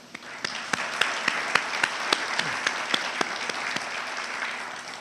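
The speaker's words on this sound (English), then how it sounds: "give you a round of applause" Steady applause from a small crowd at a conference center groundbreaking ceremony, many hands clapping together at an even level throughout, with a few sharper claps standing out.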